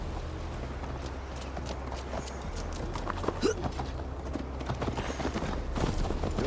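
Horses galloping in Assassin's Creed Valhalla, with a steady run of clip-clop hoofbeats over a low rumble of ambient game sound and music, holding at a constant moderate level throughout.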